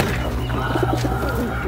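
A pigeon in Saudi Arabia gives a few soft, low coos near the middle, close by and partly buried under a steady background hum.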